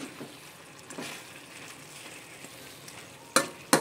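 Chicken adobo with broccoli in a frying pan sizzles steadily while a utensil stirs it, with a few sharp scraping clanks near the end.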